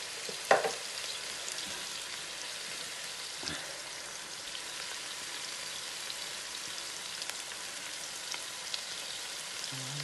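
Beef bracioles fry in a pan with a soft, continuous crackling sizzle, stirred with a few light knocks of a utensil near the start, quiet and close, with no talk.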